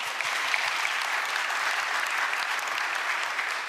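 Steady, dense clapping from a large audience at a national policy report event, continuous and even throughout with no talk over it.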